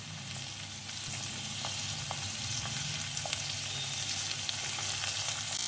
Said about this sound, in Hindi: ये देखिए दोस्तों, सारे वेजिटेबल्स को हमें बस 1 से 2 मिनट भूनना है।